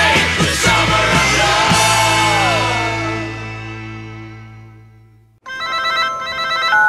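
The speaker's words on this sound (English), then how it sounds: "I'm calling you on my new Wiz wireless camera phone" A mobile phone rings in a GTA IV radio advert, a bright electronic ringtone pattern that starts abruptly after a fading musical tail and repeats loudly and close.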